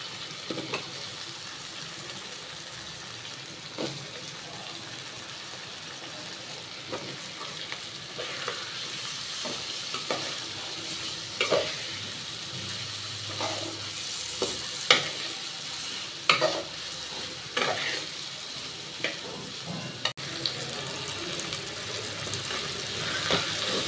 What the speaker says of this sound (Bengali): আলুগুলোকে কষিয়ে নেব।